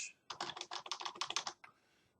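A short command typed on a computer keyboard in a Linux terminal, a quick close run of about a dozen crisp key clicks followed by silence.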